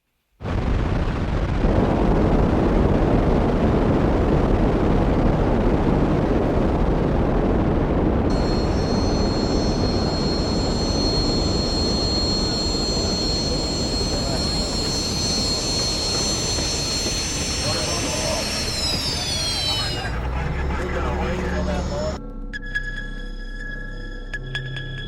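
Rocket launching into space after a countdown: a sudden massive roaring rumble bursts in and holds loud and dense for about twenty seconds, joined midway by a high whining tone, then breaks into a fluttering, pulsing tail.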